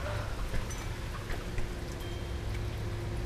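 Rain falls outside in a windy storm, a steady broadband hiss and patter with scattered drop ticks and a low rumble underneath, no voices.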